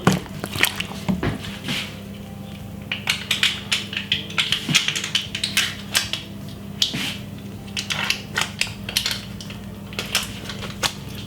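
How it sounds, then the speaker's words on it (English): Vegetable soup with crushed garlic being stirred in a pot, a run of wet squishing scrapes and clinks in an irregular rhythm, close up, with no talking. "Give it a lovely stir."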